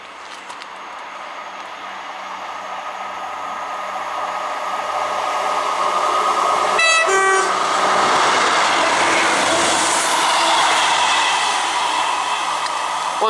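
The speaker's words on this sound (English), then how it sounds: "Now about to pass through is a Class 158" A Class 158 train rumbles through South Gyle station on the Fife Circle, growing louder as it approaches, and gives a brief two-tone horn blast partway through before the steady rolling roar carries on.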